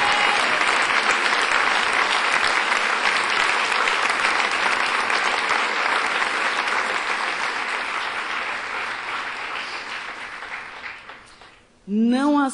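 Church congregation at a Brazilian Portuguese evangelical service bursting into sustained, dense applause that rolls on for about eleven seconds, fading toward the end before a voice cuts back in.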